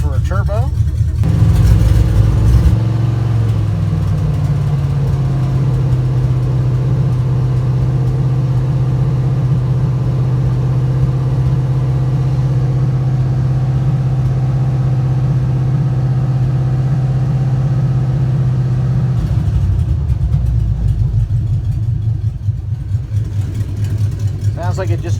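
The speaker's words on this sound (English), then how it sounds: "She's idling right down at 500." A junkyard 5.3 V8 engine with a turbo, in a 1955 Buick Special, idles steadily and loudly from start to finish, a low even rumble with a brief rise in revs near the start and near the end.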